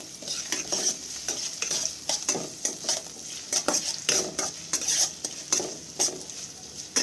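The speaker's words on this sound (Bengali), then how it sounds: "তারপরে তেলে অল্প নাড়াচাড়া করে পেঁয়াজটাকে এর মধ্যে লঙ্কা কুচি অ্যাড করব" Chopped onion and green chili being stirred in hot oil in a pan for an eggplant and fish-oil chorchori: close, repeated spoon scrapes over a steady sizzle, with no talking.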